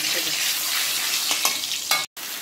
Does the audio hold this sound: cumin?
yes